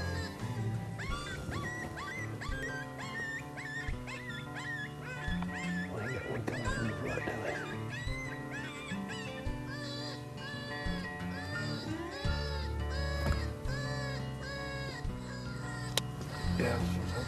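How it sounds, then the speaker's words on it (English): A coyote hunting call is played to lure a coyote, giving a string of yipping, whining and honking animal-like cries that rise and fall over a long stretch, with people talking over it at times. "dog commit, the coyote call."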